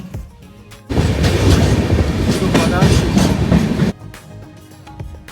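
A train roars past on the tracks with loud rumbling and rhythmic clatter for about three seconds, then the noise drops away abruptly.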